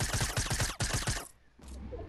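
Rapid bursts of gunfire from a shooter video game, a dense run of repeated shots for about a second, a brief pause, then another burst before it trails off into quiet with a short faint blip.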